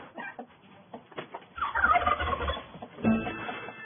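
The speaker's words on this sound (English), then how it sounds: "It's just a freaking big turkey right there, just staring down at me right there" A turkey gobbles loudly in a rapid, rattling burst, with softer clucking and scuffling before and after.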